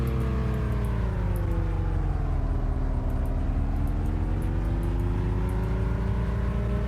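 Car engine in the video game Unturned hums steadily at close range, its pitch dipping and rising gently as it drives, with faint clicking ticks overhead and no talk.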